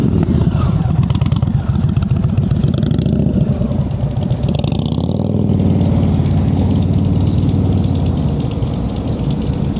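Motorcycle ridden at slow speed during a riding-skills practice session in California, a loud close engine rumble held steady at low revs throughout with slight throttle changes.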